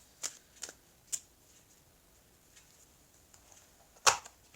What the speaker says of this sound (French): Allez, je vais prendre 2 cartes.